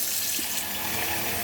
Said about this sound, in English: I'm actually going to put some water in the pot